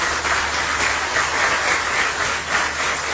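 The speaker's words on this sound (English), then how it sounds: "A round of applause for Alain Oyama" A seated audience at a National Institute of International Affairs event in Nigeria applauds for Alain Oyama, a broad, continuous wash of clapping that swells and eases slightly but never breaks.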